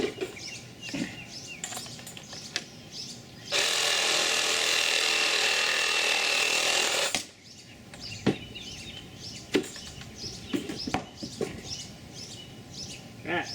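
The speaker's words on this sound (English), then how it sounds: "Get my saw, measure off 14 inches. PVC doesn't really have to be all that accurate." A power saw cuts through PVC pipe in one steady, loud, continuous burst of about three and a half seconds, surrounded by handling clatter, scrapes and knocks up close.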